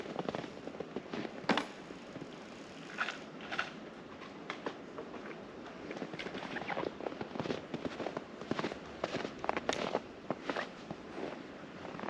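Repeated .22 pistol gunshots outdoors, sharp but fairly faint cracks scattered irregularly over a low background, with footsteps and light handling noise between them.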